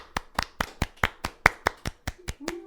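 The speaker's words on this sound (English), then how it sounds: "you felt like the clap wasn't over yet, so you had to start re-clapping" A small group claps hands in a steady, even rhythm of about a dozen sharp, close claps, heard alone without talk.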